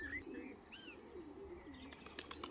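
Pigeon calls near a racing loft as the bird returns from a cup race flight, with soft chirps and coos over steady background hiss and a few faint flutters toward the end.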